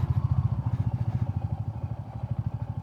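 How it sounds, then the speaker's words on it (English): A Royal Enfield Classic 350 motorcycle rides a sandy gravel road, its single-cylinder engine thumping in a steady, fast pulse close up, with a light clatter over the low drone. "Yeah, these kind of roads are so much fun with this bike."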